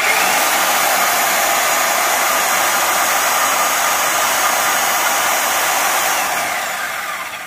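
Steady loud whirring grind of a power tool cutting a turtle leg from clamped steel held in vise grips during blacksmith forging, continuous for about seven seconds and tapering slightly at the end.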